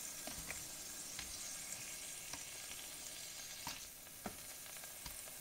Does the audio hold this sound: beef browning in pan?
yes